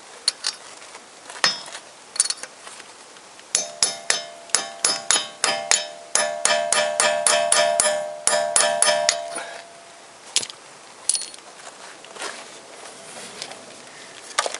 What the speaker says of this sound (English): and then I start to hammer.